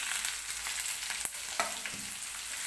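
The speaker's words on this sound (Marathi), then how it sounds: "म्हणजे कांद्यासोबतच लसूण सुद्धा व्यवस्थित तेलामध्ये भाजला जाईल" Garlic and onion with curry leaves frying in oil in a pan make a steady, close hiss broken by a couple of brief spatula knocks, with no speech.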